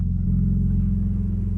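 A sports car engine idles loudly and close by with a throaty, pulsing low rumble, steady throughout the brief moment.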